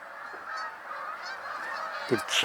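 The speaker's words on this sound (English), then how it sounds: "There are a lot of geese in the air, and you can hear them." Migrating geese honk high overhead, a loose chorus of repeated calls carrying steadily over a constant outdoor hiss, with a brief nearer burst of sound toward the end.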